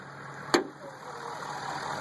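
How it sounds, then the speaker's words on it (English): A 2014 Ford F250 truck engine idling quietly and steadily with a low hum, one brief click near the start, no talking. "I'll let you listen how quiet this motor is."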